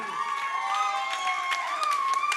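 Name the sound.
audience clapping and cheering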